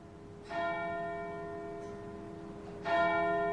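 Church bells from a radio dramatisation of Dickens's The Chimes strike loudly, two resonant tolls about two seconds apart, each ringing out with a long, overlapping hum.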